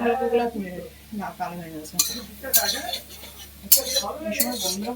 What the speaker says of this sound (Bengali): গোল্ডেন করা অবধি নাড়তে থাকতে হবে যাতে কালো না হয়ে যায়